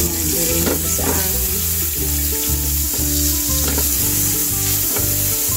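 Butter or margarine frying in a pan gives a steady, close sizzle that runs the whole time beneath rhythmic background music.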